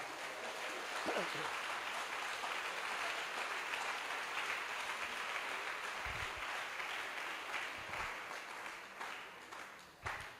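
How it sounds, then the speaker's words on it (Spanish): A church congregation applauds the Lord in one steady, dense round of clapping that fills the room and carries on unbroken, with a few faint low thumps underneath. "Un aplauso al Señor"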